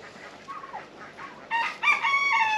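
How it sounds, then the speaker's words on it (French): A young Braekel rooster in a backyard poultry run gives a hoarse crow after a few soft clucks, moderately close and heard alone. "je vois mon coq Breckel."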